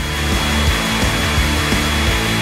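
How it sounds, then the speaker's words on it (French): A hair dryer blowing hot air over popcorn kernels on a plate, a loud, steady, close motor whir with a faint pulsing hum and no talking. "Tu le verses sur une assiette et tu les chauffes. Comme avec un sèche-cheveux."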